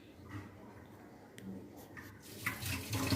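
Boiled cauliflower is rinsed in cold water, with running and splashing water that is faint at first and grows louder toward the end, alongside a few light knocks.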